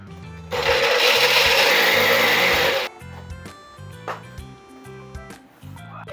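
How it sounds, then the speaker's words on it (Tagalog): A blender roars loudly for a few seconds while chopping roasted walnuts, then cuts off, leaving quieter background sounds behind. "Dudurugin lang natin yan sa ating blender o kaya food processor."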